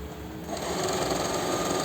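A sewing machine stitches a folded half-inch elastic waistband onto canvas for a straight-cut pant, running in a continuous fast whir with a rapid needle rhythm, close and steady throughout.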